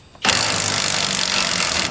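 An SP Tools 1/2 inch electric impact wrench starts abruptly after a quiet moment and runs as a loud, steady, buzzing whir right up close until the end.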